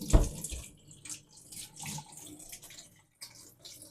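Tap water runs in a quick rinse of a Pinter brewing vessel, a steady splashing flow with a sharp gush at the start, then uneven sloshing bursts, close and fairly loud with no talk.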